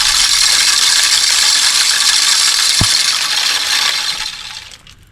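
A deer feeder's motor spins its spreader housing on a test run, a loud continuous whirring rattle that holds steady, gets one sharp click partway through, then winds down and fades.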